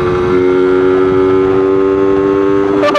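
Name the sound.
RXT 135 Classic two-stroke motorcycle riding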